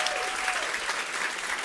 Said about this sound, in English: Please give Florence a round of applause.